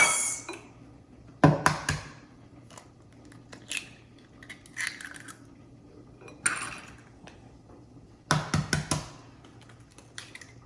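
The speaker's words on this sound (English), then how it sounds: "let's crack our eggs into this bowl here" Three medium eggs cracked against a bowl and broken up: clusters of sharp, close taps and clicks with quiet gaps between them.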